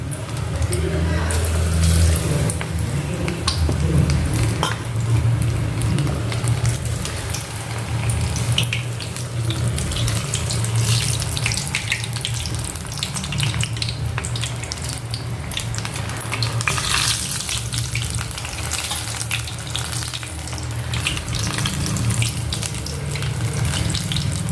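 Cauliflower chilli pieces frying in plenty of hot oil over a medium flame, with a steady, dense sizzle and bubbling filling the whole stretch, while low background music plays continuously beneath it.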